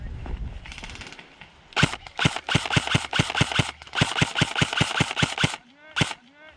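Airsoft guns firing rapidly during an outdoor skirmish on a road beside woods: a loud, close burst of about a dozen sharp cracks in quick succession, preceded by rustling and followed by a brief quieter pause.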